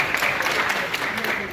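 An audience applauds at a promotional event for the film Boomerang, a dense, steady wash of clapping that holds throughout without a break.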